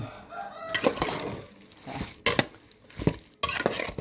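A metal utensil stirs a pot of field fish with rice paddy herb for a rustic Isan dish, with short scraping and clinking bursts separated by pauses, close and fairly loud.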